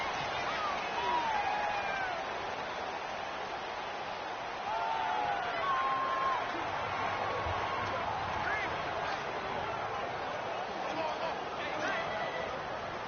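Stadium crowd noise in a football video game, Chiefs at Seahawks, swells as a continuous roar of home fans behind steady commentary, rising louder midway while scattered whistles and calls cut through.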